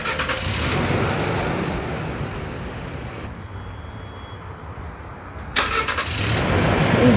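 A Toyota Innova fitted with a sodium-ion battery cranks and starts, its engine rumbling steadily up close, dipping briefly before rising again into a loud idle.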